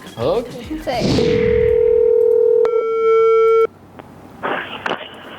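A phone call's ringing tone sounds as one loud, steady electronic beep lasting about two seconds. It is followed by a softer, brief tone, with voices talking before and after.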